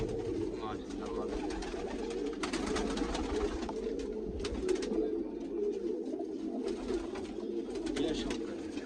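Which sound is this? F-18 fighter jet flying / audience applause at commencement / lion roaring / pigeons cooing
pigeons cooing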